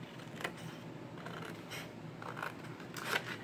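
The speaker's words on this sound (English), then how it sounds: "I'm going to cut up this gusset right here on this side" Scissors snipping through a paper gusset on a mini album, a few short crisp cuts spread over a few seconds, faint and close with a soft background hiss.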